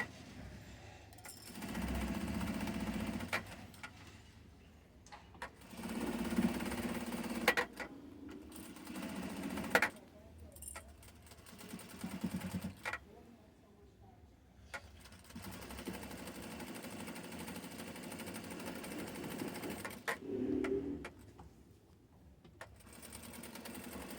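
Sewing machine stitching fabric in several separate runs of fast, buzzing needle clatter, each lasting a few seconds with short quiet gaps between them, fairly faint and close; no talk.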